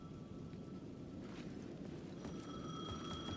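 A payphone rings at the edge of a plaza in Alan Wake 2, faint bell tones cutting through a steady rain-like hiss, one brief ring early and a longer ring near the end.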